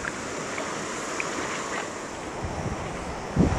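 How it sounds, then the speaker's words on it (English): Wind blowing outdoors beside a small, crystal clear stream, a steady rushing roar with gusty buffeting on the microphone, a brief louder thump near the end. "With the wind going."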